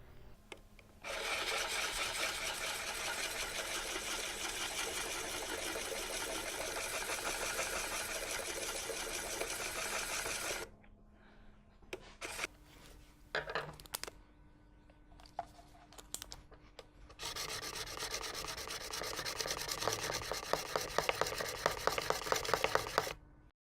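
A gasket scraper blade rubbed back and forth on a sharpening stone, a steady close scraping hiss in long continuous strokes, then a pause of short scrapes and taps before strokes resume.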